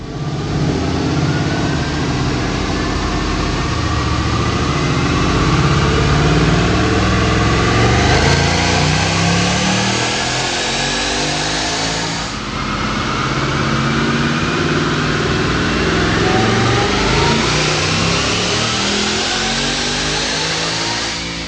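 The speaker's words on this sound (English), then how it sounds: "Check out this dyno pull." A stock automatic 2019 Mustang GT with a Roush Phase 2 supercharger, running 93 octane, roars through a long, loud dyno pull, its engine note climbing steadily through the revs, briefly easing, then sweeping upward again with no talk.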